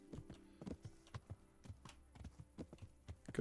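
Horse hooves clip-clopping along a track in the medieval role-playing game Kingdom Come: Deliverance, a steady walking rhythm of close, crisp hoof strikes with no talk.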